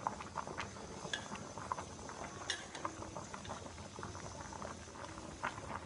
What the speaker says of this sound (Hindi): फूल गई है पहले से और उबल रही है